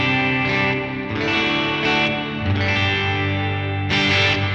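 An electric guitar rings through the Ganymede reverb on a Line 6 HX Stomp, sustained chords with distorted, chorus-like shimmer and long washing tails that blend one chord into the next.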